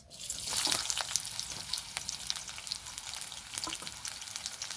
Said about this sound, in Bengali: পেঁয়াজটাকে ভালো করে নাড়াচাড়া করে ভেজে নেব।